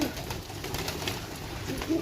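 Pigeons coo softly and steadily nearby, with a constant outdoor background hum and no clear flapping.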